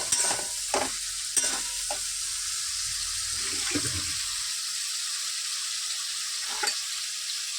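Unboiled potato pieces are sautéed with spice masala in a pan, giving a hissing sizzle with several short, sharp scraping stirs near the start and a few more later.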